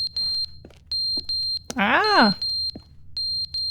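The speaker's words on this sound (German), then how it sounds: "Ist das der Rauchmelder? Oh Gott, das ist laut." A smoke detector beeps loudly in a steady repeating pattern of sharp high tones, interrupted midway by a person's drawn-out wavering exclamation before the beeping resumes.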